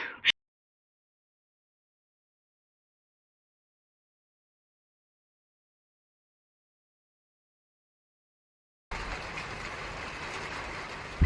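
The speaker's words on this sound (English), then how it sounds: "We finally have rain. It's just started raining" Silence for most of the stretch, then a steady, even hiss of rain begins near the end and keeps falling.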